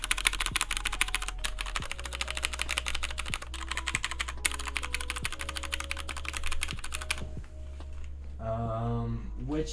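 A Rukia mechanical keyboard with MX Black switches clacks under fast, continuous typing at close range, with dense overlapping keystrokes that stop near the end as another brief sound takes over.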